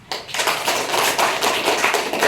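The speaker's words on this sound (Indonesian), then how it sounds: "Yuk, tepuk tangan di sini" A classroom audience claps for a student's presentation in a loud, close, dense burst of many hands, kept up steadily for a couple of seconds.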